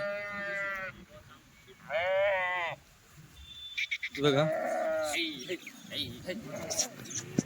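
Sheep give several loud, wavering bleats up close, three distinct cries separated by pauses, while people talk nearby between and over them.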